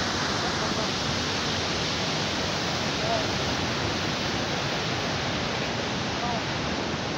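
Bhivtas waterfall at Surgana in the rainy season, a loud steady broadband rush of falling water that fills the whole scene without a break.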